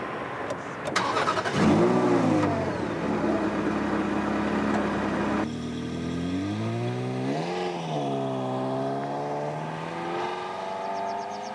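A Ferrari sports car engine starts and revs, then drives steadily with rising and falling engine pitch under gear changes, loud and close throughout with no talk.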